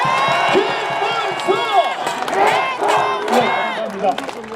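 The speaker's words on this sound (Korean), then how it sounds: "큰 박수 한번 부탁드립니다." Crowd at an outdoor presidential campaign rally in Gongju, South Korea cheering and shouting loudly with clapping mixed in, a dense roar of many voices rising and falling throughout.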